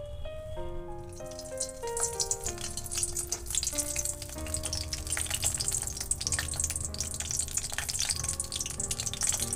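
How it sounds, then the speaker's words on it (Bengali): Eggplant pieces for baingan bharta fry in hot oil, with a steady crackling sizzle beneath a clear tonal melody that plays throughout. "তো তেল গরম হয়ে গেছে, আমি এবার এক এক করে বেগুনগুলো দেবো।"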